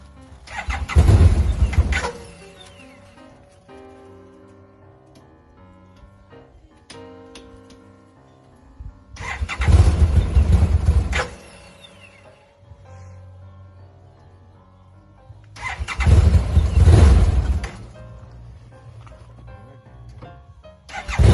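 A Bennche Chinese-made UTV engine cranks in three loud bursts separated by steady idling and ticking between them, close by, with no talking.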